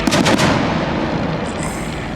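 Simulated anti-aircraft fire bursts during an airshow dogfight of World War I replica biplanes, a Fokker D VII, SPAD VII and Fokker Dr. I triplane, at Old Rhinebeck Aerodrome; a few loud reports open, then a sustained rumbling roar continues.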